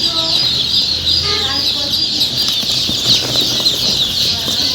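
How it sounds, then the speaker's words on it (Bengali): A crowd of Peking ducklings on a duck farm keeps up a dense, steady chorus of high-pitched peeping, loud and close, with a few lower calls and soft thuds underneath. "দেখুন অরিজিনাল বেজিং হাঁসের বাচ্চা"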